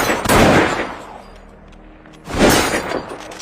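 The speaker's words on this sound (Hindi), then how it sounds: "तभी अचानक एक गोली चलने की आवाज आई" Two loud, sharp gunshot blasts fired by an elderly landlord in a film scene, each burst followed by a ringing decay, with a short quieter gap between them.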